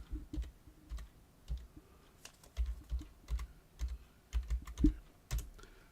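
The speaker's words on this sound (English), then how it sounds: "Let me type something on there" Rapid bursts of keystrokes on a computer keyboard, close and clear, in uneven clusters with short pauses between, no voices.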